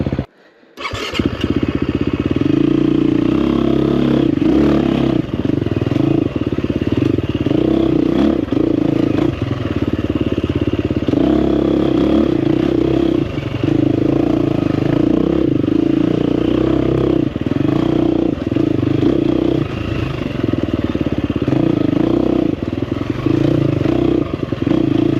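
A 2024 KTM 350 XCF Factory Edition dirt bike ridden on tight single-track trail, its engine loud and close throughout with steady rumbling drone, throttle blips and clattering chassis and scraping noises, no talking.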